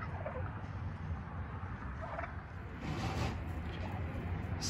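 Turkey gobbling among poultry being let into an expanded chicken run, a steady mid-level fowl clamour with scattered calls throughout, no talk.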